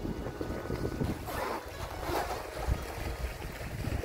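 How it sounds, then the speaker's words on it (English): Wind buffeting a microphone aboard a sailboat sailed single-handed, a constant loud rushing roar with gusting swells and faint water wash underneath, no voices. "Wind picks up more and more"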